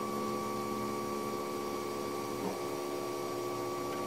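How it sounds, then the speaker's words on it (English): Steady mechanical whine and motor hum from a 3D printer printing, with strong tonal stepper notes running continuously, one faint sweep midway, close and even throughout without talk. "this is my first print on this 3D printer."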